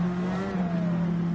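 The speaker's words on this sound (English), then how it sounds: "this van is very loud and modified" A loud, modified van engine in a racing game holds a steady high drone with a rising pitch, close and continuous throughout the short stretch, alone with no voices.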